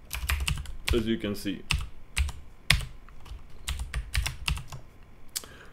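Computer keyboard typing in bursts of quick, crisp clicks with short pauses, close and fairly quiet, while a person speaks briefly between the keystrokes.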